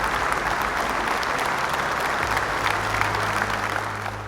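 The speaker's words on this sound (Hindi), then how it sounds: "तालियों की गड़गड़ाहट से हमारी टीम का स्वागत करें" A hall audience at a national family Bible quiz applauds to welcome a team on stage, with steady, dense clapping that continues throughout, slightly fading toward the end.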